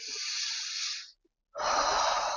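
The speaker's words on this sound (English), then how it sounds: "take a few deep breaths in" Two long, close, airy breaths during a mindfulness relaxation exercise, separated by a short silent pause, the second one fuller and louder.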